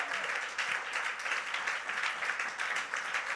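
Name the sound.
congregation applauding and cheering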